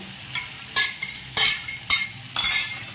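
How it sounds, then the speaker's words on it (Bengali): A spatula stirs ground cumin and Kashmiri chilli powder with a little water in a pan over medium flame for vegetarian ghugni, making a continuous close sizzle broken by four or five loud scraping strokes. "এবার সমস্ত মশলাটাকে ভালো করে কষে নেব।"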